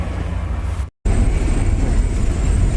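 A travel bus pulls in, its loud, steady low engine rumble filling the scene at close range, broken by one brief cut before the drone resumes unchanged with no talk.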